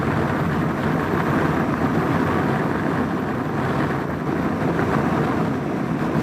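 Loud, steady broadband wind roar buffets a helmet windscreen on a SYM Maxsym 400 scooter at speed. It rumbles continuously and close without a break, with no engine note standing out.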